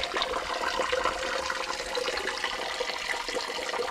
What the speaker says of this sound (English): Here's our waterfall.